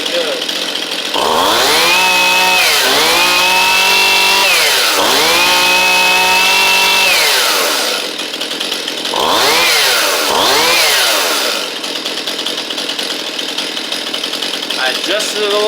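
A Stihl MS171 chainsaw, just reassembled and tuned rich, runs loud and close, revving up in two long sustained bursts, dropping to idle, then revving again twice more briefly.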